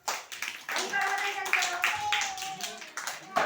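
Young preschool children clap their hands in a group activity, a scattered run of light claps mixed with voices talking and calling over them.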